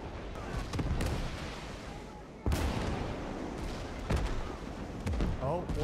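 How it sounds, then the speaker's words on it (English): Naval big guns firing in a World War II Iwo Jima battle game: several sharp booming blasts at irregular intervals, around 2.5, 4 and 5 seconds, over a dense roar of continuous battle noise and gunfire. "Gotta work out where these big guns are shooting from."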